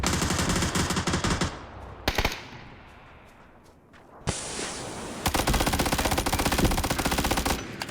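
Rapid bursts of automatic gunfire, loud and sustained, briefly dropping away to a quieter stretch with scattered shots before the heavy firing resumes.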